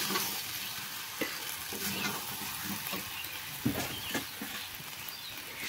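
Potato curry (aloo dum) cooking in a wok, a soft steady sizzle broken by occasional clicks and taps of stirring, fairly quiet and close, with no one speaking.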